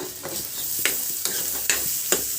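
Beaten eggs fry in a pan with a steady hot sizzle, while a utensil stirs and scrapes through them in quick repeated strokes, close up and with no voices.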